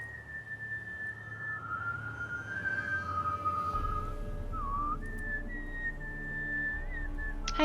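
A character in The Witcher 3: Hearts of Stone whistles a wavering, continuous melody, steady and fairly clear, over a low, constant ambient bed with no talking.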